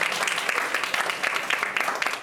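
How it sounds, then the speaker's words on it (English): A seated audience at a fireside chat applauds steadily, dense clapping filling the room from start to finish at an even, moderately loud level. "Round of applause."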